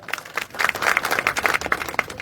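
A crowd at a political rally breaks into brisk, dense applause, many hands clapping at close to moderate distance for a couple of seconds.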